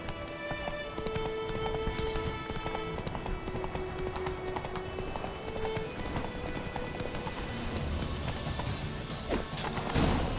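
Roach, the horse in The Witcher 3 video game, gallops with continuous hoof beats under a dense in-game music and ambience bed, with no talk, and a brief crash near the end.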